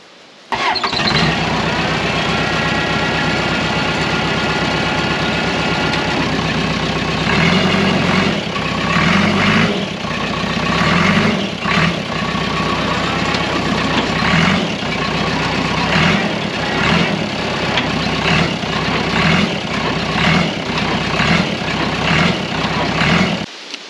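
An abandoned Case 450B dozer's engine fires up after fifteen years of disuse and settles into a loud, steady diesel idle nearby, rough and throbbing with occasional surges, heard alone without talking.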